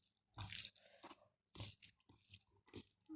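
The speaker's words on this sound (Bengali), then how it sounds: "উঠে গরম গরম ভাত রান্না করে একটা খাচ্ছি।" Someone eats freshly cooked hot rice late at night, close to the microphone. Several distinct bursts of moist chewing and soft crunching are separated by short quiet pauses.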